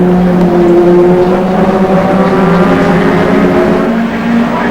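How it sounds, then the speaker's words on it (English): A Holden HQ with a 202 six-cylinder engine, racing at Bathurst, climbs Mountain Straight under heavy load, giving a loud, sustained, steady engine drone with strong harmonics and no pause. "So the 202 Holden 6s working overtime for the drag up Mountain Straight"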